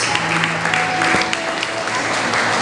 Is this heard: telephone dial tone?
no